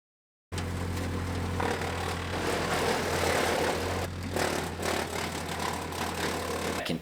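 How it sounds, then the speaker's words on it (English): A wood chipper running while brush is chipped, a steady low engine drone with a rough, knocking mechanical chatter and uneven grinding surges over it, close and continuous. "I can chip up this brush and have it be amazing mulch for our garden."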